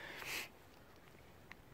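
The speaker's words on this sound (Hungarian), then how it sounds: "Azért szipogok." A person sniffles from a cold on a freezing morning of about minus six degrees: one short, close sniff near the start, then near-silence with a faint tick later.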